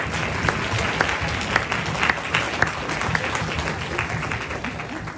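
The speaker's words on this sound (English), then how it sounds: "We'll give him one more round of applause." Concert audience applauding in a hall, many hands clapping in a dense, steady wash with a few sharper claps standing out, moderately loud, with some voices faintly underneath.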